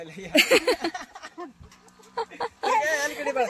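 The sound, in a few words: chickens and roosters clucking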